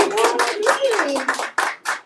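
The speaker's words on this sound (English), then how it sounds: "Can we give them a round of applause?" Audience clapping at a book discussion and poetry reading, with scattered claps that thin into a few separate bursts while a voice calls out over them.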